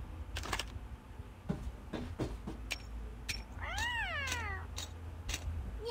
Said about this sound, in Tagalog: Ba't may pusa?